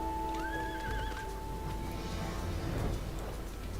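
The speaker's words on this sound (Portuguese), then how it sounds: "finalmente vou poder andar no meu cavalinho" A horse mount in the Final Fantasy XIV online game lets out a clear whinny near the start, followed by clip-clopping hooves and game ambience, with no speech over it.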